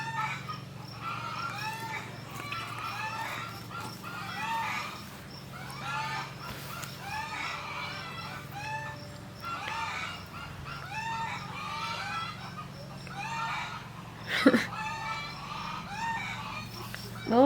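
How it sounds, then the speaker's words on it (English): Chickens agitated by a possible predator cluck continuously in a steady, busy chatter with occasional crowing, moderately distant, with a couple of sharp knocks near the end. "Don't mind my chickens."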